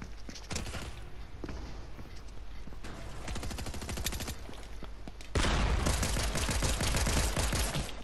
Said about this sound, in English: that's the AR that shoots like that